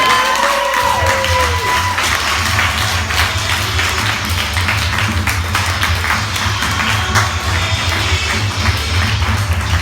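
A comedy club audience breaks into loud, sustained applause and cheering, dense clapping filling the room alongside whoops, with a low steady hum running underneath throughout.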